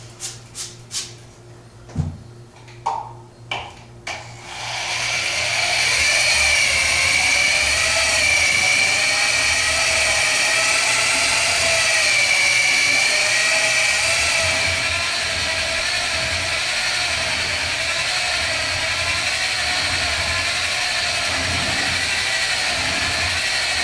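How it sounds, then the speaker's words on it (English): A bowling ball sander spins a ball against a 500 grit pad, making a steady, loud whirring drone that runs for about twenty seconds. A few sharp clicks and knocks come just before the motor spins up. "Now that we have finished sanding with the 500 grit pad"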